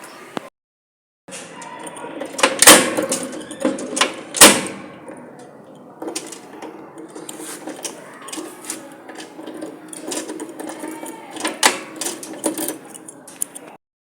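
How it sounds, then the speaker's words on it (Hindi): A house door lock is unlocked with keys: metallic jangling, several sharp clicks and clunks of the lock turning, all close by, with some background noise and a voice speaking at times. "आ चुकी हूँ घर पे और अब घर खोलेंगे लॉक"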